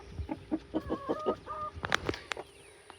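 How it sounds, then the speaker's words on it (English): Several chickens cluck in quick, throaty bursts close by, one rising into a sharper squawk near the end before fading. "And I've got a crowd of chickens over here."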